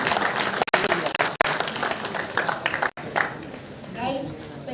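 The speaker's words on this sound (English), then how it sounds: "So can we have a cheer for our judges and our mentors as well?" An audience at a results declaration event cheers and applauds, a dense continuous wash of clapping and crowd noise that fills the whole stretch, with a brief dropout near the end before fainter crowd sound.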